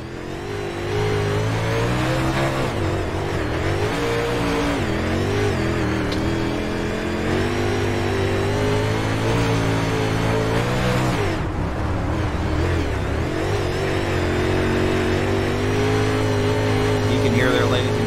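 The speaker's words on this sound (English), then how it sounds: "listen to this throttle around the 4/10 mile dirt over at Dirt Track" UMP modified dirt race cars roar on throttle around a 4/10 mile dirt track at Charlotte, engines rising and falling steadily and loud throughout, with a commentator talking over them.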